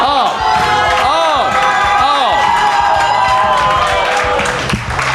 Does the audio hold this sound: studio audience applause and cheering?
yes